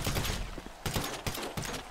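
Rapid bursts of gunfire in the video game GTA crackle in quick succession, several sharp volleys separated by brief pauses, fairly loud and close.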